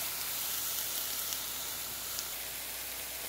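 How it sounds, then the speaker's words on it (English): Onion sautéing in a skillet gives a steady, even sizzle and crackle that stays close and holds at the same level throughout, with no talking over it. "Let's saute it first."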